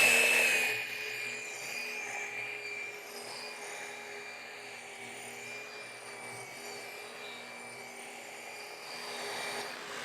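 A rotary car polisher spreading polish across automotive paintwork, giving a steady, fairly quiet whirring drone with a faint high whine that holds evenly throughout, alone without talk.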